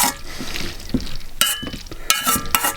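Pine nuts stirred while frying in olive oil in a pan, with a steady sizzle beneath scraping stir strokes and a few sharper clatters of the utensil against the pan, close up.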